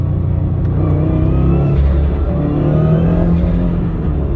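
A Subaru WRX with a carbon fiber driveshaft accelerates in second gear from 3,500 RPM at about 30 mph, giving a loud, steady engine drone and rumble heard from inside the car without talk.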